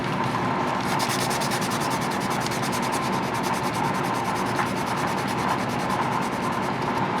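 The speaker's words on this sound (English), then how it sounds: "That's what we'll use the fine grit sandpaper for." Fine grit sandpaper rubbing over a model ship, a loud close scratchy sanding that runs steadily and evenly throughout with no talk.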